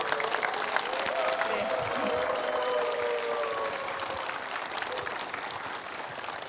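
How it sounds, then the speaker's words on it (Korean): Steady, fairly distant applause from a talk-concert audience welcoming a novelist, a continuous wash of many hands clapping that holds evenly throughout, with faint voices mixed in. "여러분 황석영 작가님을 큰 박수로 함께 맞아주시기 바랍니다"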